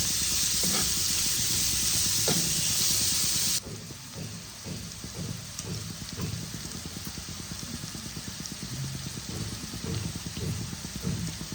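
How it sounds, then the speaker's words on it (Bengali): Grated ginger and green chilli fry together in a pan for dhaba-style palak paneer, a loud hissing sizzle at first that settles into a softer, bubbling crackle with faint clatter. "ভালো করে একসাথে ফ্রাই করে নেব।"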